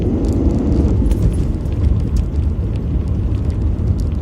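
A V8 Toyota Soarer pulls in to park on a road, its engine giving a steady, loud low rumble throughout with faint tyre and cabin noise above.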